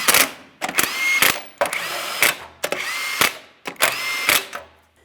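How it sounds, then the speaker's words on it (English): An impact tool or power driver works the 21mm lug nuts on a 2003-2008 Toyota Matrix wheel in repeated short whirring bursts with brief pauses between them, loud and close. "I'm going to torque each of these lug nuts to 76 foot-pounds"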